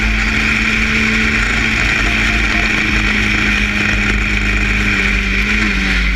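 Historic Formula Ford race cars lap Cadwell Park, giving a continuous, loud engine drone with a steady high whine that holds through the whole stretch without a break.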